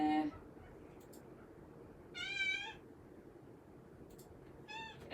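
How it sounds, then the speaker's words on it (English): A cat meows indoors, two clear harmonic calls a couple of seconds apart, the first longer and louder, heard alone over a low steady room hiss. "there you guys can hear the cat going on."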